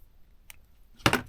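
Scissors snip off a thread edge while tassel earrings are being made: a faint tick, then one short, crisp cut near the end, close and alone.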